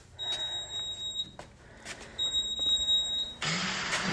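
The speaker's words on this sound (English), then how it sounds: "Girl, is that a fire alarm?" Inside a garage, a smoke alarm gives two sustained shrill beeps about two seconds apart, fairly quiet amid light background noise, before a burst of louder rustling at the end.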